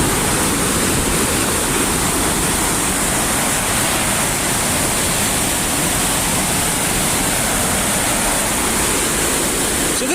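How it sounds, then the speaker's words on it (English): Porter Brook runs high in flood after heavy rain, a loud, unbroken roar of rushing water close by that holds steady throughout with no voices. "This is the Porter Brook in flood."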